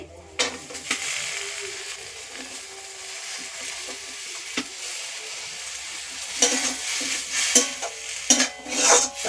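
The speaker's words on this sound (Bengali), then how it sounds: "এবার টক ঢাঁড়সের পাতা আর আলুটা কড়াইতে দিয়ে দিচ্ছি" Sour dhenras (okra) leaves and potato sizzling and frying in a kadai with turmeric and water, a steady close hiss broken by scraping stirs toward the end.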